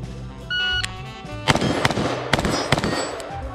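Quick pairs of sharp .223 rifle shots fired in double taps, several loud cracks with ringing tails spread over a few seconds, preceded by a short electronic beep.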